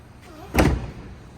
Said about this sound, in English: So when you close the door